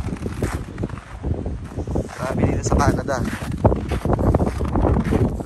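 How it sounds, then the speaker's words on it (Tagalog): Cold winter wind gusting outdoors in Canada, a rough, blustery rush buffeting the microphone throughout while a person speaks over it. "Malamig yung hangin ngayon."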